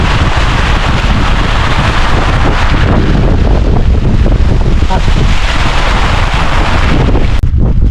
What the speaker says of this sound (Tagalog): Lumalakas ang hangin.